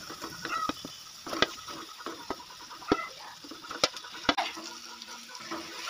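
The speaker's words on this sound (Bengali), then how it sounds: "আলু ফুলকপি মশলার সঙ্গে ভালো করে কষিয়ে নেব" Fried potato and cauliflower pieces being stir-fried with spices in a pan, a soft continuous sizzle broken by sharp, irregular clinks and scrapes of a spatula against metal, close and moderately loud with no talking.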